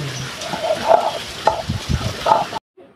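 Neem leaves being ground on a stone grinding slab, with a series of close, wet scraping and squelching strokes in an uneven rhythm that ends abruptly.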